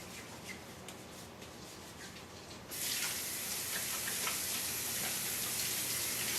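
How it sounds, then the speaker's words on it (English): Tap water running steadily into a sink during handwashing, a soft hiss that suddenly grows louder and brighter partway through, close and continuous with no talking. "safety and sanitation requires me to wash my hands"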